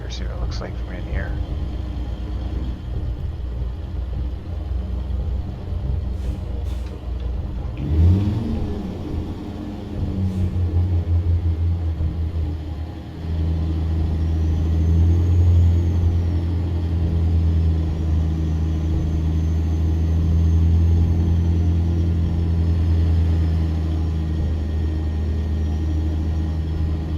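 Low, steady engine rumble of a truck driving in American Truck Simulator, a FLX 359 cab view on the road from Eureka to Medford, droning continuously and growing fuller partway through, with a voice talking over it.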